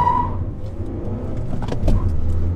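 Two 2021 manual hatchbacks, a Mazda3 with a six-speed and a turbocharged Kia Forte5 GT, sit at the line for a drag race, a steady engine hum filling the close cabin, with no voices.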